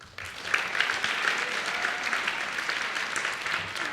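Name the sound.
audience applause for seniors' families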